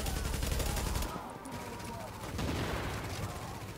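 Gunfire in the video game The Division: loud, rapid bursts open the span, then a busier mix of shots and rumble continues at a fairly steady level.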